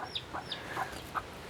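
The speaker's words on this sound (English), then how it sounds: "Is the mama hen gonna come after me because I'm following her?" A mother hen with a chick clucks in short repeated bursts close by, a few soft calls spaced about half a second apart over faint outdoor background noise.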